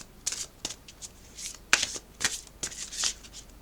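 A deck of divination cards is shuffled by hand, giving a run of soft, irregular riffling flicks and slaps, close and fairly quiet.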